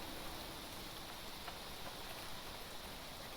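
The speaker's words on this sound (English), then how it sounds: "I still hear the noise of rain, even though I don't see rain." Ambient rain loops in the fantasy role-playing game Aielund Saga, a faint, steady hiss of falling rain with no distinct drops or pauses.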